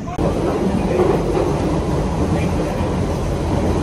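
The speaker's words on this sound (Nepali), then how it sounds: "हाम्रो ट्रेन आइसक्यो यही हो" An underground train rumbles into the station with a loud, steady roar and rattling wheels that fill the platform, and voices are faintly heard beneath the noise.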